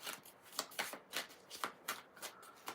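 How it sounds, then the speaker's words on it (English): A deck of thick cards is shuffled in short riffling bursts, about eight or nine crisp rustling flurries at a fairly even rhythm, close and quiet with no talking. "I can't hardly shuffle this deck like the way I normally shuffle decks because their cards are so thick"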